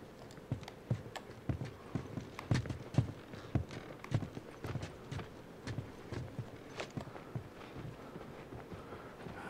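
Horse hooves clip-clop steadily on hard ground in The Last of Us, a brisk, even rhythm of close hoofbeats continuing throughout with no talking.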